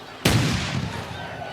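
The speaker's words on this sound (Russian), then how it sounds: "выстрелил в стаю лебедей" A single sharp gunshot, fired at a flock of swans, cracks out, followed by a brief rumbling echo fading away.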